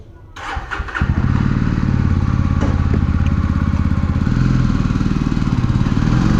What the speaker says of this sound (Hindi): चलिए गाइस चलते हैं अब और बाइक कर लेते हैं स्टार्ट।